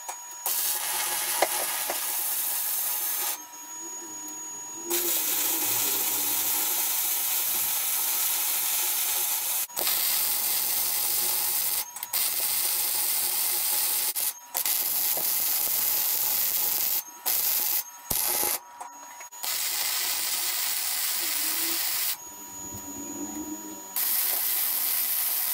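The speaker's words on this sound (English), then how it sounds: "I'm gonna start looking at welding out the backside there." Bursts of welding crackle and buzz close up along the backside of a Jeep JK rear bumper being fabricated, several long runs broken by short pauses.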